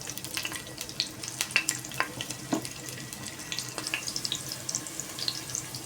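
Garlic fries in a pan with potatoes for chicken adobo, a busy crackling sizzle full of small pops and spatters, close and fairly steady throughout.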